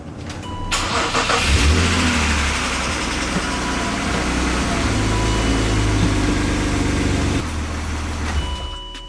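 A car engine with an exhaust leak patched with JB Weld starts and runs close by, a loud steady idle with a raspy exhaust note, before dropping off near the end.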